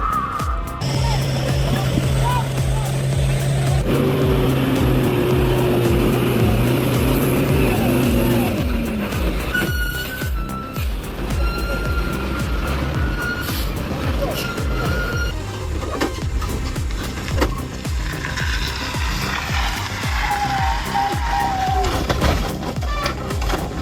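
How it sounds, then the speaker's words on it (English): Off-road truck grinding over a rough, rocky mountain road, its engine a loud, continuous roar with shifting revs and rumbling jolts throughout, mixed with other noise and occasional tonal sounds. "The car roared, grinding its teeth, each wheel gripping the rough, slippery road"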